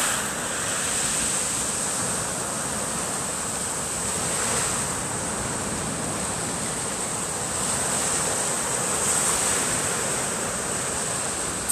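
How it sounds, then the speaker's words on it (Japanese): Ocean surf rolls onto Sumiyoshi beach in Shikoku at night, a continuous loud rushing roar that swells gently now and then, with no talking. "波が時折やばいのが来る"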